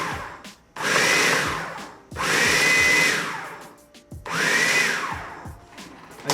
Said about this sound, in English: See how easy it is to use a food processor?